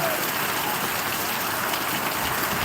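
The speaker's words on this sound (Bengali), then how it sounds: "আল্লাহ পাক আমাদের রহমতের বৃষ্টি দ্বারায় আমাদেরকে ঠান্ডা করে দিয়েছেন" Heavy rain pours down in a steady, dense hiss with no breaks, close and loud, with no voices over it.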